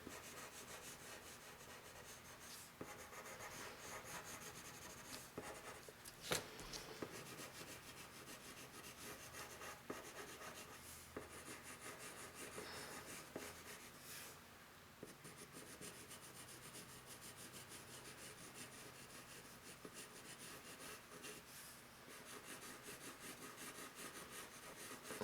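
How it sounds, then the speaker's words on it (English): A pencil shades a circle on paper with curving strokes, pressure gradually eased, producing a faint, continuous soft rubbing and scratching close up in a quiet room. "as I go up and around, I'm going to release some of the pressure that I'm holding down the pencil with so that my marks get lighter"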